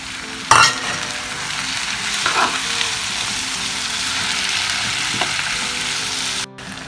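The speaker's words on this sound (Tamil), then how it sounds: "வெங்காயம் தக்காளி நல்லா வதங்குது." Onions and chopped tomatoes sautéing in a pan for thakkali thokku: a continuous close crackling sizzle with a few sharp stirring scrapes near the start, no talk.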